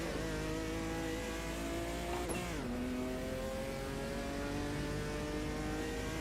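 A 1986 Opala Stock Car with a rough, dirty-sounding V6 engine drones steadily in the racing game AMS2, holding a buzzy tone that dips sharply on a gear change, then climbs again as the car accelerates, loud and close.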